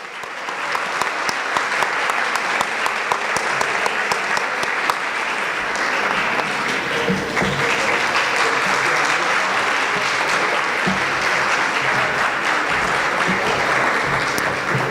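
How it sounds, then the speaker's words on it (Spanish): Sustained audience applause fills an award ceremony at a youth moot court arbitration event, loud and steady clapping from a full crowd for about fifteen seconds with no talking over it. "Un aplauso, por favor."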